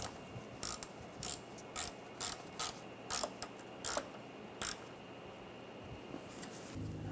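Ratchet wrench snugging a screw on a 2009-2013 BMW 328i xDrive AC condenser, a run of short clicking bursts in uneven groups, close and fairly quiet, with no talking.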